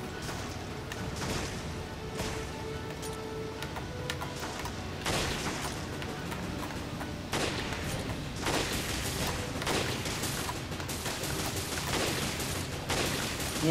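Gunfire in Resident Evil Revelations Raid Mode co-op: dense, repeated bursts of shots and impacts crackle almost nonstop, loud and close, with occasional heavier booms.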